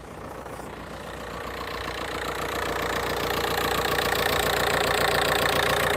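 A 1.9 TDI diesel engine idles steadily, a continuous rough mechanical rumble with a knocking texture that grows slightly louder over several seconds, with no voices.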